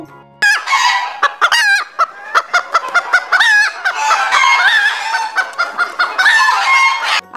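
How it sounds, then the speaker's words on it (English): A hen clucks in quick, repeated bursts of bright, insistent calls, close and loud, with no talking over it. "H for hen."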